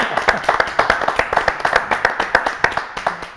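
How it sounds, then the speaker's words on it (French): Clapping greets the guests on a French television show, a rhythmic series of sharp, evenly spaced claps mixed with lighter applause from others, fairly close and steady. "Mes invités préférés, applaudissements. Allez, je vais vous applaudir"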